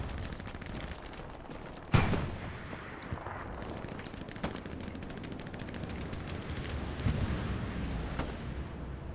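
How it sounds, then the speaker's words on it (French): Machine gun fire in the World War II shooter Hell Let Loose, with a loud nearby shot or impact followed by scattered distant bursts and rattling gunfire over a steady battlefield rumble. "Tu vois la MG qui tire dessus à droite"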